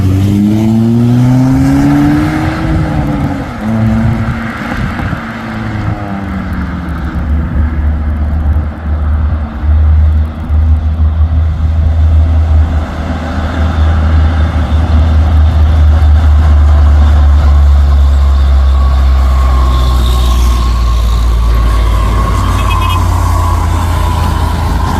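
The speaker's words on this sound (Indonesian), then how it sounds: "ini ada satu unit truk tangki Fuso intercooler" A Fuso intercooler tank truck climbs a hill with its diesel engine droning and straining, changing pitch as it shifts, loud and close throughout with no talk.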